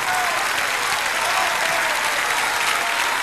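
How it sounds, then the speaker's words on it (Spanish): Dense, steady applause from a large audience for a dance troupe at a folk music show, continuous and loud throughout with no pauses. "Un aplauso para todos."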